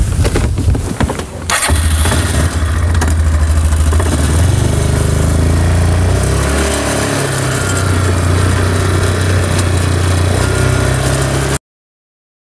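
An ATV engine on a farm starts and then runs steadily for about ten seconds, loud and close, with a brief rise in revs partway through before it cuts off.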